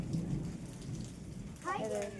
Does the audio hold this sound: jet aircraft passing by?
no